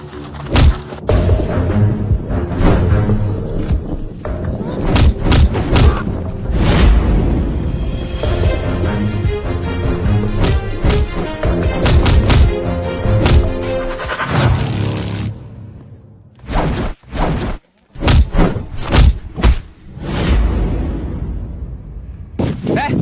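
Loud thumps and slaps from a staged comic brawl, with men being beaten as dense overlapping impacts and shouting voices. Later come scattered, separate hits with short gaps between them.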